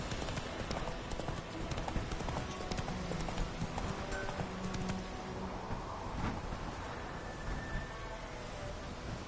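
A horse named Roach gallops in a video game, with steady, rapid hoofbeats and a low wash of background noise running throughout.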